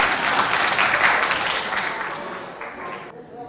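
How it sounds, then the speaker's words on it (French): Audience applause and cheering for a student representative of Lycée Idriss Miskin at a school quiz show in Abéché, a dense burst of clapping and crowd noise that fades toward the end. "Sous vos acclamations."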